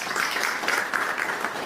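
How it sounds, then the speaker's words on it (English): Applause for the panel at a youth forum, a steady wash of many hands clapping from an audience in a hall, even and sustained throughout. "Last round of applause to our panel."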